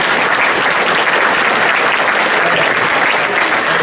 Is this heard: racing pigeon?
no